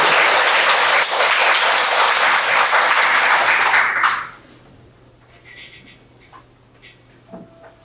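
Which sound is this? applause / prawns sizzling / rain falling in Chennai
applause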